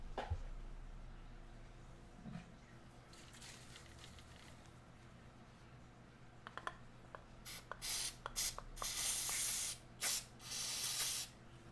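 Carburetor cleaner sprayed onto RC engine parts in a series of short aerosol hisses, several quick bursts followed by longer sustained sprays, near and loud against a quiet background.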